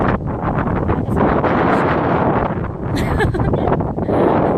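Strong wind buffets a microphone on a hilltop, a loud, continuous roar with gusts rising and falling throughout, while a person talks under it.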